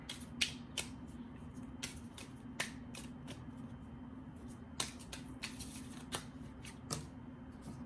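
Tarot cards shuffled and drawn in a quiet room, with soft, sparse snaps and riffles scattered over a low steady hum, faint and close.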